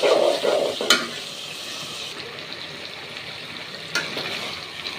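Fish frying in a pan, with a soft sizzle and a few sharp clatters from stirring near the start and again toward the end, close but moderate in level.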